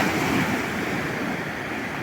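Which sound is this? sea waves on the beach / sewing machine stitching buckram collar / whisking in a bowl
sea waves on the beach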